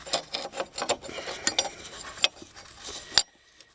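Metal flat wrench clinking and scraping as it is fitted onto a Renault suspension ball joint, a series of close, irregular clicks and rubs ending in a sharper clink before silence.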